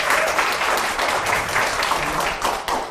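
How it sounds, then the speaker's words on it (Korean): Audience applause from Daejeon citizens at a political talk event, a dense and loud burst of many hands clapping that holds steady throughout with no speech over it. "따뜻한 우리 대전 시민들의 마음을 다하고 박수 부탁드립니다"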